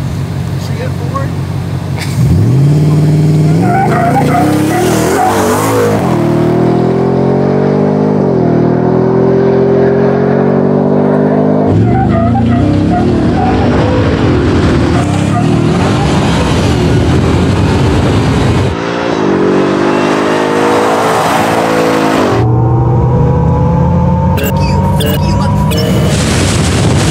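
A Hummer EV and a Ford Raptor R launch in a drag race on unprepped tarmac: loud, close engine roars rise and fall in several revving surges with tire noise, under excited shouting voices.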